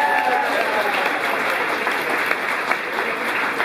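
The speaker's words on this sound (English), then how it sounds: "Give these people a round of applause." A concert audience at Le Poisson Rouge in New York claps steadily in a dense, sustained round of applause with a few scattered whoops, filling the room throughout.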